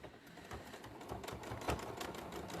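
A sewing machine stitches forward and back on a fabric bag, its quick mechanical runs rising and falling with a short burst near the end, close and clear with no talking.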